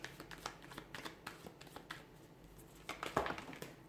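Tarot cards shuffled and drawn from the deck, with a run of quick, soft papery flicks and riffles close by, then a denser flurry of slapping cards near the end.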